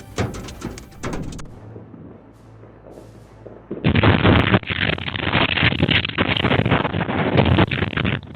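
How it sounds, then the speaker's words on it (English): A violent explosion shakes a house: after a few sharp cracks and a quieter lull, a sudden heavy boom breaks into a loud, sustained roaring rumble that fills the remaining seconds. "a violent explosion shook the entire building like a giant blow from the sky."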